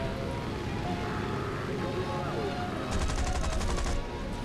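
Aircraft machine guns firing in War Thunder: a rapid, loud burst of about a second of rattling shots near the end, over the constant roar of the plane's engine and wind.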